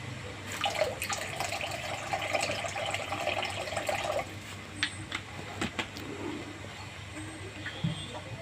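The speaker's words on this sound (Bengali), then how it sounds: "এবার পরিমাণ মতো জল দেব।" Water poured from a vessel into a pan of mango kasundi paste, a brief steady splashing stream followed by a few faint knocks and drips.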